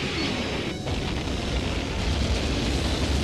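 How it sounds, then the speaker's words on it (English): A cartoon missile explosion blasts as a loud, continuous rumbling boom that fills the whole moment with dense low roar and crackle, close and unbroken, with no talk over it. "You've got an incoming missile!"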